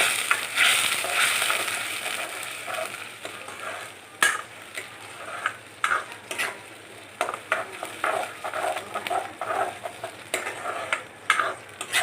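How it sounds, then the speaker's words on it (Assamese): Spice paste of ground onion-based masala for rajma curry fried in a pan, a constant sizzle beneath frequent sharp scrapes and knocks of a spatula stirring, near and fairly loud, without any talking. "এইখিনি এতিয়া মই ভালদৰে লৰাই ভাজি ল'ম।"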